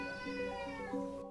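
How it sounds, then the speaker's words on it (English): A cat named Bear gives a drawn-out, insistent meow with a wavering pitch, close and fairly loud, ending abruptly. "he's such a demanding cat"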